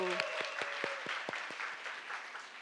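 Audience applause welcoming a pastor at a church network seminar, a modest scattering of individual claps heard fairly near, with sharp separate hand strikes and a tone or voice at the very start.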